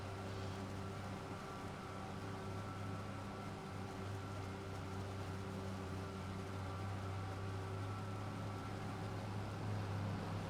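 In Farming Simulator 25, a forage harvester chopping corn silage on a Wisconsin farm gives off a steady, low mechanical drone with a constant tonal hum, unbroken and without speech.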